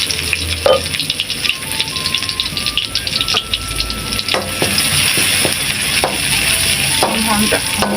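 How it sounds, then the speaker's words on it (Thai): Squid sizzles and crackles in a hot pan while being stir-fried with curry paste for Thai basil squid, a steady loud frying hiss broken by repeated scrapes and rattles of a utensil against the pan. "พี่น้องไปพัดกับข้าวปลาหมึกกันเลยจ้ะ"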